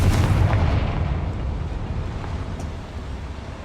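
A Confringo blasting spell from Hogwarts Legacy goes off as a deep, rumbling explosion, loud at first and slowly fading into a sustained low roar across the whole stretch.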